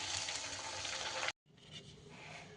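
Vegetable kachoris fry in oil over a high flame, a loud dense hiss that cuts out briefly and then returns a little quieter.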